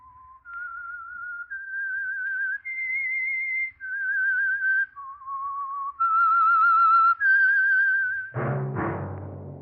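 A clear whistled melody of several rising and falling notes, alone, the opening signature of a 1947 radio drama, ending on a sudden deep low swell of sound.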